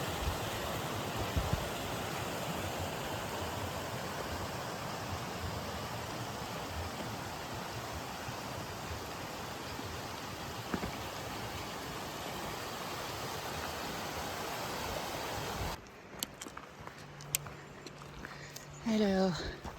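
A small stream flowing through a mountain forest, a steady soft wash of water that runs evenly for most of the stretch before cutting off, followed by brief handling noise and a faint voice.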